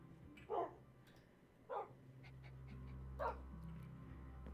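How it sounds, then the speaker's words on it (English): Tamed wolf dogs in Minecraft give three short, separate barks over a quiet background of soft panting and low hum, fairly close, with no talking. "So many dogs. They're everywhere."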